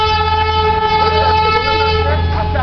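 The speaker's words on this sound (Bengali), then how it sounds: "ট্রেন আসছে, টয় ট্রেন আসছে" The horn of a Darjeeling Himalayan Railway toy train at Batasia Loop blares as one loud, sustained, steady tone lasting the whole clip, with faint voices underneath.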